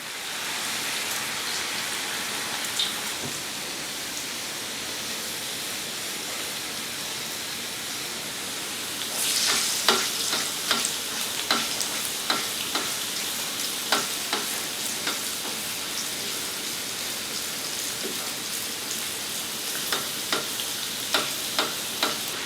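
Food frying in oil in a pan makes a dense, steady hiss. Louder crackles and pops burst in partway through and recur irregularly, close up and with no talking.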